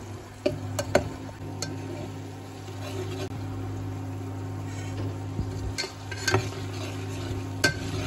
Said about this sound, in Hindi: तो इसको अब मिक्स कर देते हैं हम सही तरह से करना है